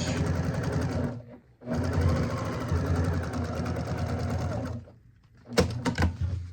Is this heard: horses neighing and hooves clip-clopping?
no